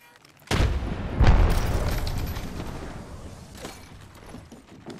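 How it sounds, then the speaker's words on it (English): Frag grenade and Arc Star explosions in the battle royale game Apex Legends: a sudden loud boom, quickly followed by a second heavy blast, then a long rumbling decay with faint game noise. "Frag out. Throwing Arcstar."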